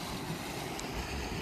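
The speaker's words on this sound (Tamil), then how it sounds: "கொஞ்சம் தண்ணி எப்படி இருக்குன்றதை பார்க்கலாம். நல்ல force, very very forceful flow." A forceful, cold glacial meltwater stream at Wari La Pass rushes in a steady broadband roar, close and continuous, with wind buffeting mixed in and no talking.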